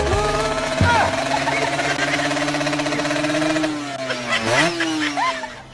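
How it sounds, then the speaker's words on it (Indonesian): Neighbor's motorcycle engine revving hard and loud nearby, a sustained roar with rising and falling pitch sweeps, continuous for several seconds with some voices mixed in. "tiba-tiba motor tetangga main ngegas aja. Mana kenceng lagi."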